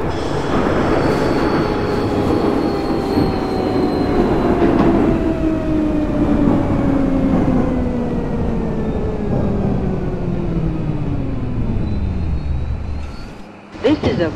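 A New York subway J train in the OpenBVE train simulator game runs steadily with rumbling, clattering wheels and a whining motor tone that slowly falls in pitch as it decelerates, ending in a brief clunk.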